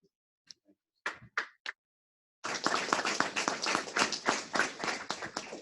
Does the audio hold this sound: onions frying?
no